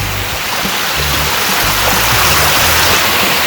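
Stream of flowing water in the wilderness, found while lost on a climbing trip; a steady, close, broadband rush of water runs throughout without pause, with faint low rumble beneath.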